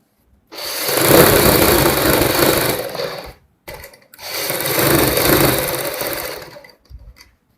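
A sewing machine stitches a straight side seam on a ready-made pleated saree with a belt, in two long, loud, steady runs split by a brief pause.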